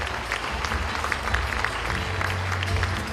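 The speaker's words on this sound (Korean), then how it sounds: "여러분, 큰 박수와 함께 헤럴드 존스 공동위원장님을 무대 위로 모시도록 하겠습니다" Audience at the 2020 Pyeongchang Peace Forum opening ceremony applauds as a co-chair is welcomed to the stage, a dense, even patter of clapping throughout with a low hum underneath.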